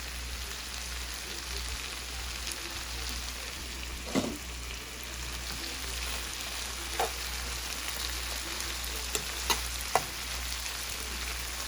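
Shrimp fry in a pan for shrimp pasta, giving a steady, close sizzling hiss throughout with a few brief clicks and taps of turning the pieces, no talking.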